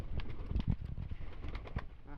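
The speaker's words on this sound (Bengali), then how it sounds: "মাশাআল্লাহ, আমার এখানে সব জাতের কবুতর আছে।" Domestic pigeons of several breeds, including King and Jalali, coo in a loose, overlapping chorus while waiting to be fed, with low throaty calls close by and a bit of wing and shuffling noise.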